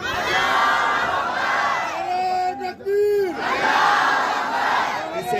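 A large crowd at a sit-in rally in Gwadar shouts slogans in unison, with loud roaring bursts that swell, drop briefly mid-way, then rise again with strained, sustained voices.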